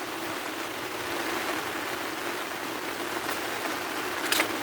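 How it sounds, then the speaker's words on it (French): Rain falls steadily during carp fishing, a constant close wash of drops hitting surfaces with no voices. "quand il pleut comme ça"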